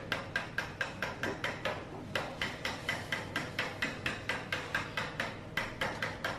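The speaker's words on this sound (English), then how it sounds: "So I'm just doing some final planishing here just to get the panel back to the correct" A hammer strikes a gas-welded, hand-fabricated steel repair panel in a fast, even run of sharp close taps, about three to four blows per second, with only brief gaps.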